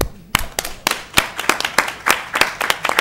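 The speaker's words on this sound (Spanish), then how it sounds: "Así que un aplauso para ustedes." Audience at a book launch clapping, a sparse, uneven patter of individual claps from a small group, close by and brief.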